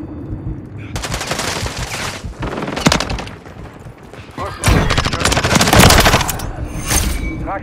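Gunfire in a shooter video game: rapid automatic bursts and volleys in several loud clusters with short pauses between, some booming hits mixed in.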